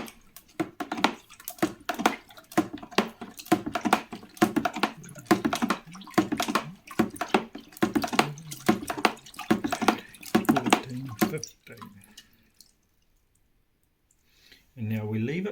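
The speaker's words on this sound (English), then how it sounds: "Give it a stir." Fermenting wine kit must stirred in its vessel gives a rhythmic run of wet sloshing and clicking strokes up close for about twelve seconds before falling quiet, then a brief final noise.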